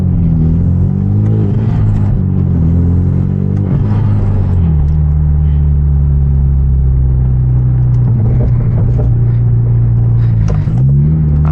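A Genesis Coupe with raw exhaust on a fall drive, its engine droning loud and close with a deep rumble, rising and falling through revs and shifts.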